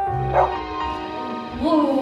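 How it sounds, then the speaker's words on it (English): Dogs let out short yips and whimpering barks mixed with voiced, cartoon-like sounds. The sounds are close and fairly loud, and one cry rises at the end. "That definitely wasn't rats. I think it was the dogs."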